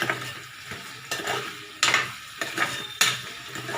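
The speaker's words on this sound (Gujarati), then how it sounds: "બટેટાને આપણે થોડીવાર આ રીતે તેલમાં જ પકાવવા દેશું" Potatoes fry in oil in a pan for a Kathiyawadi pea and potato curry, with a steady sizzle broken by several loud scraping stirs at irregular intervals. No one speaks.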